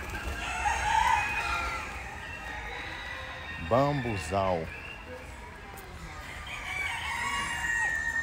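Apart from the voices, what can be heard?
roosters crowing and chickens clucking in a park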